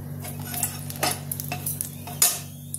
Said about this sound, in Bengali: এবারে ফোড়নটা দেবো, দিয়ে দেবো গোটা শুকনো লঙ্কাটা